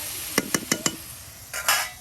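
An elderly grandmother stirs and turns bitter gourd slices frying in a pan, making four quick scraping clinks of the utensil against the metal, followed by a soft, sizzling swell of frying.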